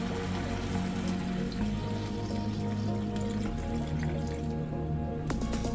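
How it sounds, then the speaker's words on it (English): About two cups of water poured into a soup pot for steak soup, a continuous close trickling and splashing with faint dripping throughout. "I'm going to try to add about 2 cups of water."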